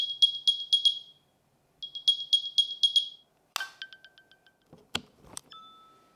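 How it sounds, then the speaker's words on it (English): AirPods Pro 2 charging case speaker chimes: two quick runs of bright, clean electronic beeps, then a sharp chirp, a short stepped tone sequence and a final soft tone, close and alone with no talk. "they'll make a new set of sounds every time you'll connect to earphones or put the case on the charger"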